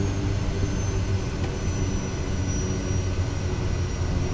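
Single-engine Kodiak 100 turboprop in Microsoft Flight Simulator 2020, throttled back to a steady, loud drone with a constant low hum and no break.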